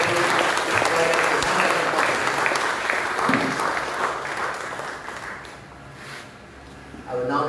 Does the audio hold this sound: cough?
no